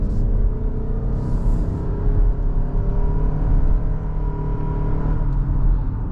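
A 2025 Mazda CX-50 Hybrid in power mode accelerates from inside the cabin, its non-turbo engine giving a steady, loud droning hum that rises gradually over road rumble, with no talking.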